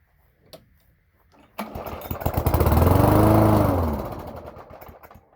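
A Toro lawn mower engine on a cold start attempt: a few quiet clicks, then a sharp pull as the small engine catches. It revs up loudly, holds briefly, then sputters and fades as it dies.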